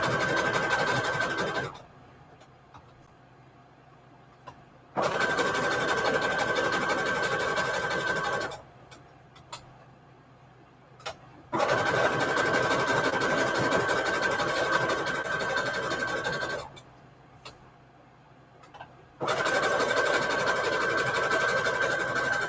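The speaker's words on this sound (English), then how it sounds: "and then zigzag stitch around. So let me do that first." A sewing machine running a zigzag stitch on paper cards, a close, loud mechanical whir with a steady tone that runs in long bursts and stops between them in quiet pauses, with no talking.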